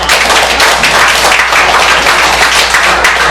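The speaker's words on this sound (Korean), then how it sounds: "모두 큰 박수로 맞이하여 주시기 바랍니다." Loud, dense clapping from a forum audience welcoming a tax consulting company CEO to the stage, a continuous close wash of hands with no voices on top.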